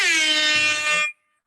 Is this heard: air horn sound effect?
yes